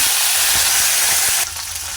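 Dried chillies, crushed garlic and curry leaves crackle and sizzle in hot oil, a steady close frying hiss that drops slightly in intensity near the end, with no talking.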